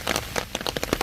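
Rain patters on a softened red clay walking path, scattered irregular drops tapping close by in a short burst with no talking.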